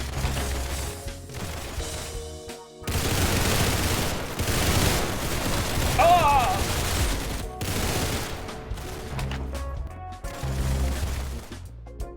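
Sustained bursts of rapid gunfire and explosions from the Roblox game Arsenal fill the clip, loud and dense, with short gaps between volleys and no talking.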